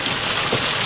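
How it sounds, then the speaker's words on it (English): Heavy rain falls in a dense, steady roar of hiss, loud and close, with no gaps over a brief moment. "It's just really bad rain right now."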